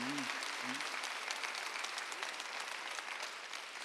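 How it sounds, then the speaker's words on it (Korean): A church congregation at a Sunday service claps hard in a sustained, dense burst of applause that fills the room, with a brief voice at the very start. "박수 세게 쳐봐요."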